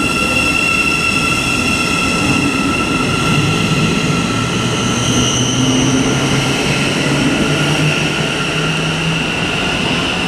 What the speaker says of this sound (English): departing now is going to be the 1203 Thameslink service to Cambridge